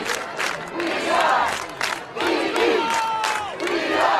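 A high school football crowd of Saints fans roars and cheers in loud, overlapping waves of shouts and whoops, sustained across the whole stretch.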